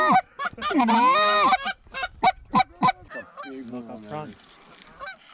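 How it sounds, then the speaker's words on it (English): Several geese honk in a loud burst of harsh, rapid calls, followed by quieter scattered honks as a flock passes close by. "The geese are coming."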